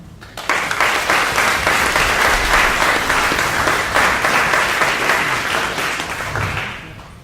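An audience applauds to welcome an MC and an international panel at an alumni conference, a sudden burst of steady indoor clapping that stays full for several seconds before tapering off.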